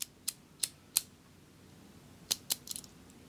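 A key slides into a lock, its pins giving a series of sharp, bright clicks: three quick ones, a louder fourth, a pause, then a final cluster of small ticks, all close and crisp over a quiet background.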